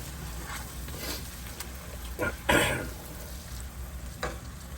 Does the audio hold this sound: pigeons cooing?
no